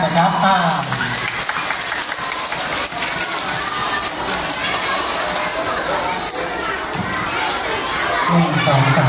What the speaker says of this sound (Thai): เด็กนักเรียนทุกคนปรบมือให้อาจารย์ต้นดังๆพร้อมกันนะครับ